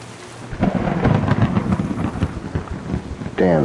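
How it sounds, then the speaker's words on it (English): Loud thunder rumbles and crackles over steady rain in the medieval game Kingdom Come Deliverance 2, a sustained roll lasting several seconds with a sharper burst at the end. "Damn, that was some loud thunder."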